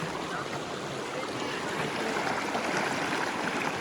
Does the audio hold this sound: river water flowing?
yes